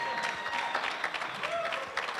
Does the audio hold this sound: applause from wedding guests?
yes